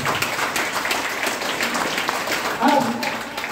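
An audience at a seminar-style talk breaks into steady, dense applause, a continuous wash of clapping with a voice speaking over it near the end.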